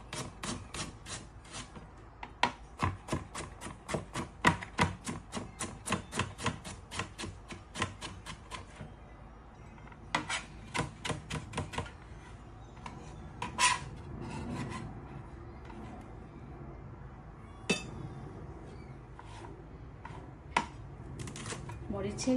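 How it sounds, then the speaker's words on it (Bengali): Green chilies being finely chopped with a knife on a board, a quick run of sharp, close taps that pauses and resumes in bursts, with faint speech at times. "এবার আমি কুচি করে নিব।"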